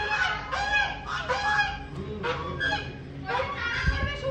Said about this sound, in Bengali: হাঁসদেরকে ডাকে, আজ দেখা যাক হাঁস দেখা যায় কি